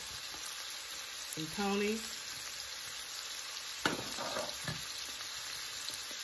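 Beef sautés in a pan for stuffed cheesy bell peppers, making a soft, steady sizzle. A short spoken phrase and a single utensil clink cut in partway through.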